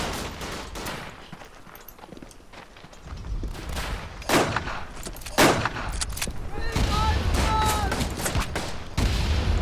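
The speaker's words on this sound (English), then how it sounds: "I seriously have no idea where I'm getting shot from right now." Rapid bursts of rifle and machine-gun fire from the World War I shooter Verdun crack near and far in irregular volleys, with heavier booms mixed in and a voice talking over parts of the firefight.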